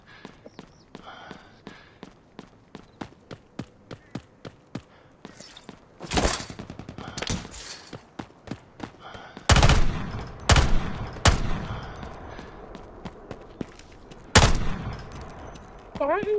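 Rapid bursts of gunfire from a game, with a string of quick shots and several loud, sharp blasts spread across the clip.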